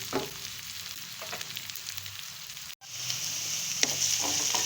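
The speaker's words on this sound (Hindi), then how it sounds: "हल्का से इसको फ्राई करते हैं कि इसका कलर चेंज होने लग जाए।" Chopped onions frying in oil in a pan as the base for a kidney bean curry: a steady, close sizzle with crackling pops and occasional stirring scrapes, with a brief dropout midway.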